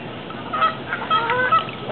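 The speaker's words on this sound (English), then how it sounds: "Those geese are saying, let her go, let her go." Geese honking repeatedly at middle distance beside a lake while fishing, irregular calls over steady outdoor background noise, no talking.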